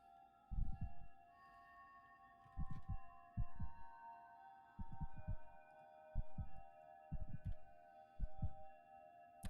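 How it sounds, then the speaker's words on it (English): Low thudding heartbeat pulses in pairs, steady and close, over a sustained tonal hum from Hollow Knight Silksong gameplay, with no talking. "Sorry for the heartbeat noise."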